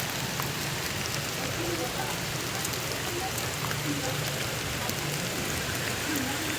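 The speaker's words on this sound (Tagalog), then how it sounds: "Ulan, ulan." Steady, dense rain hisses continuously at an even level in a Philippine village, with no pauses and only faint sounds beneath.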